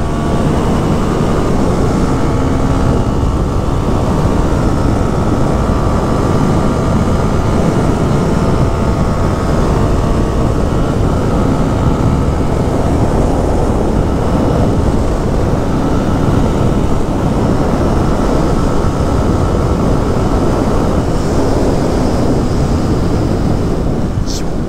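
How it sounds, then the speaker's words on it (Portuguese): Honda Twister 2021 motorcycle ridden at speed, a loud continuous engine roar buried in heavy wind rush that fills the whole stretch. "Amaciando a moto do Tavares, ele vai ficar bravo."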